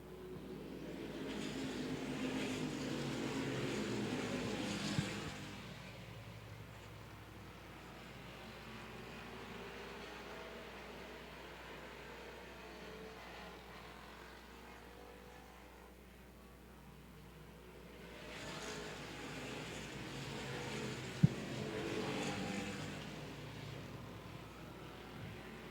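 Street stock race cars roar past on the Angola Motorsport Speedway oval, their engines swelling loudly as they pass, fading to a distant drone, then surging again.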